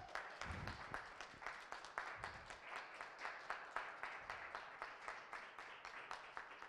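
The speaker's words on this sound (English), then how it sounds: "let us clap for you one more time" Quiet, distant audience clapping for models at a Dress for Success fashion event, a loose patter of hands with brief low rumbles early on.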